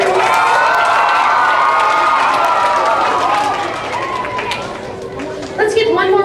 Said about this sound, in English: Let's give one more round of applause to these great students of the month.